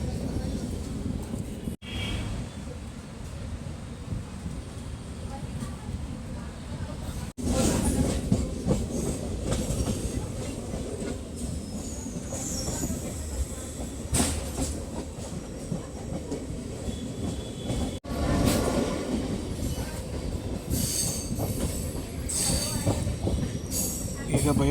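KSR Bengaluru–Kolar MEMU train rolling along the rails, a loud continuous rumble with rhythmic wheel clatter and occasional squeals, heard from inside the coach with brief breaks.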